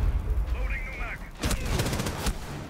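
Gunfire in Rainbow Six Siege: a bright chirping game sound, then a burst of rapid sharp shots and echoing cracks in the second half, with a voice talking over part of it.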